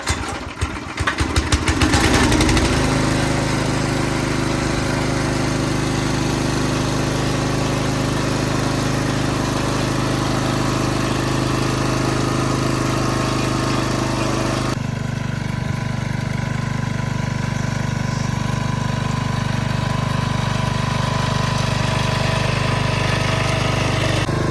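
A Craftsman rototiller engine catches after a few quick sputters and settles into a loud, steady, close-up running drone with a rough mechanical buzz and no talking.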